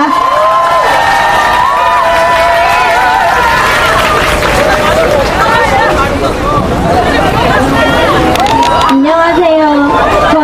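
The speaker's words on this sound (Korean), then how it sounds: "큰 박수로 함께 모셔주셨으면 좋겠습니다" A large crowd cheers and applauds at a candlelight protest rally in front of KT condemning the intelligence service's election interference, a dense, steady roar with shouts and babble that stays loud throughout.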